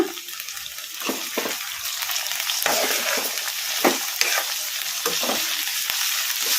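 Tomatoes cook on a high flame in a pan with a loud continuous sizzle, punctuated by repeated scraping stirs of a spoon or spatula at irregular intervals.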